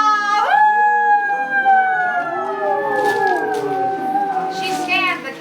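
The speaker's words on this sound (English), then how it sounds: "Denali howled and howled when she saw the sled." A drawn-out dog howl, performed as a sound effect in a Gold Rush trail camp puppet show, rises and then slides down in long wavering tones, loud and close, fading out over several seconds.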